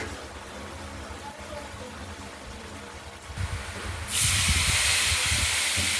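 Potatoes dropped into hot oil in a pan for a thin katla fish curry, a steady close hiss that swells suddenly into loud bright sizzling partway through and stays strong.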